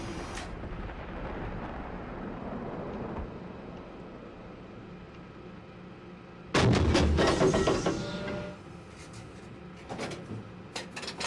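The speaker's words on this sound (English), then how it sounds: "Gunfire distant." Distant gunfire in a military video game, a dull rumbling crackle of shots rising over steady background noise for a couple of seconds, then fading back to ambience with a few faint later pops.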